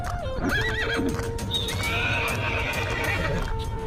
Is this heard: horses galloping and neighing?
yes